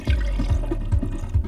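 Water is poured into a container in a classroom demonstration, a soft close gurgling and splashing with a few low sloshing pulses.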